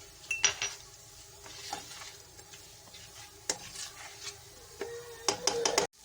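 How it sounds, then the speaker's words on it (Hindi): Green chillies and fresh coriander sauté in a pan for aloo bhurta: a faint low sizzle runs beneath repeated close scraping stirs and metallic clinks of a spoon against the pan, with a louder burst of scraping near the end. "बस इसको 2 मिनट भूनूंगी मैं"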